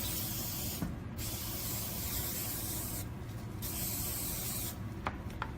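Lubricant being sprayed from an aerosol onto the rails of a lollipop mold: a close, loud, steady spray hiss in long bursts separated by brief pauses.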